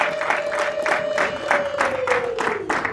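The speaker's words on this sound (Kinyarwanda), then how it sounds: "amashyi menshi cyane" Wedding guests applaud in a brisk, steady rhythm of crowd clapping, with a sustained held tone running over the claps throughout.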